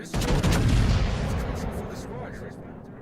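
Naval guns fire a loud, close salvo in the World of Warships video game, a heavy booming blast that rolls into a long, fading rumble.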